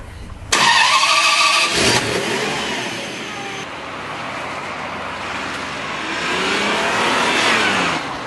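A Ferrari 550 Maranello with a 64-valve V12 starts abruptly and revs, a loud close roar that dips and then swells again as it pulls away, with no talk over it.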